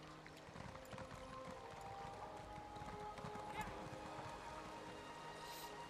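Horse hooves clip-clop steadily while riding in the game Elder Scrolls Online, a soft continuous rhythm mixed under game music and ambience, with a voice talking over it.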